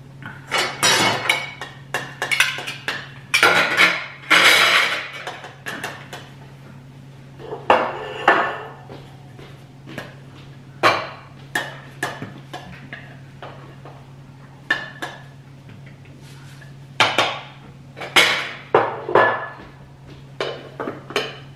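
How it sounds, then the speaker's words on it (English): Rice being dished up from a thermal cooker pot for Filipino sinigang with pork ribs: repeated clinks and scrapes of a utensil against the pot, in irregular clusters, close and clear over a low steady hum. "we're gonna dish up the rice"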